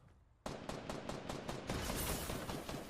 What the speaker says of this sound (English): Also, assault rifle.